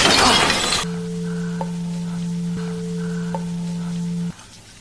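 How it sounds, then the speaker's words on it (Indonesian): A toilet bowl shatters under someone's feet in one loud, sharp crash lasting under a second, followed by a steady low electronic hum. "Tiba-tiba kloset yang dia injak pecah sehingga membuatnya terjatuh."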